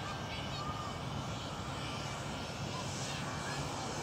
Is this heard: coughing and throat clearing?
no